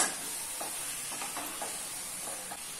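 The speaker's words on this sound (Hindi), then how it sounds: "अभी इसमें मैरिनेट किया हुआ चिकन ऐड कर लेना है और मिक्स कर लेना है।" Marinated chicken stirred into a masala in a pan, producing a soft, continuous sizzle with faint scraping strokes of a spoon, low and steady, close but quiet.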